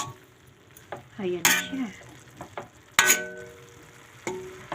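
Bean sprouts are stirred while frying in a pan, with a soft continuous sizzle broken by sharp scraping and clanking strokes of a utensil against the pan, and someone speaking briefly.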